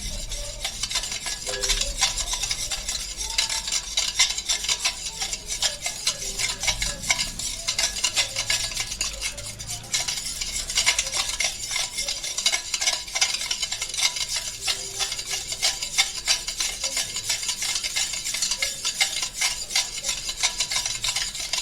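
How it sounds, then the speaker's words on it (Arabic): Potatoes are mashed and stirred into tomatoes in a pan, making continuous close scraping and squelching with a constant soft sizzle, steady and even from start to finish, with no talking. "اهم شيء دوبي البطاطس كويس في الطماطم"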